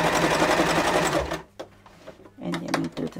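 A sewing machine stitches a zigzag in a rapid, loud mechanical chatter at close range, then stops; after a pause it runs again in shorter bursts with small clicks.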